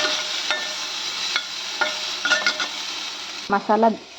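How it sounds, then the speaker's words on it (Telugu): Tomato and onion pieces fry in a pan for a capsicum masala curry, a soft steady sizzle with a few quick stirring scrapes and a louder clatter of utensil movement near the end. "టమాటా ఆనియన్ ఫ్రై చేసుకుంటున్నానండి."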